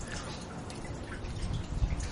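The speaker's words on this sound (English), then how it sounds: "So I'm just letting it drip out slowly." Gasoline drips slowly from the loosened fuel tank of a 1992 Lexus SC400 during a fuel pump job, a run of soft close patters and splashes over a steady background.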